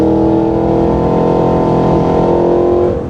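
A 2023 Cadillac Escalade-V accelerates hard in V mode, its supercharged V8 giving a loud, sustained roar that holds steady and close for several seconds, then eases off slightly at the end.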